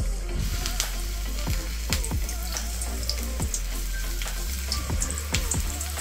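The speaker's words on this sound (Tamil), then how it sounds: "எண்ணெய் நல்லா காஞ்சிருச்சுங்க ஒண்ணொண்ணா போட்றலாம்" Banana flower pieces deep-frying in hot oil in a kadai, a steady crackling sizzle with occasional sharper pops and spatters, close and fairly quiet, with no talking.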